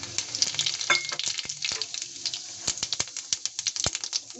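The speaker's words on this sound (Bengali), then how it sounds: "আবার এখন আমি ফোড়ন দিয়ে দিচ্ছি" Cumin seeds hit hot oil in a kadai already used to fry okra, giving sharp crackles and pops over a continuous sizzle, close by and without talk.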